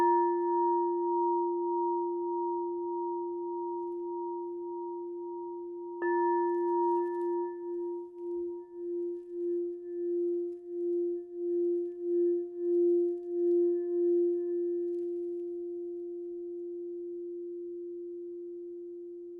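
Rose quartz crystal singing bowl rings with a pure, sustained tone, then is struck again and swells with a slow, pulsing wobble before gradually fading; quiet and alone, no voices.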